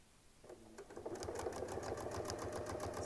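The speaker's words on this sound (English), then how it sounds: "I can just keep on sewing." A sewing machine stitches a quilt seam, starting up and settling into a fast, even mechanical chatter that runs close and steady with no talking.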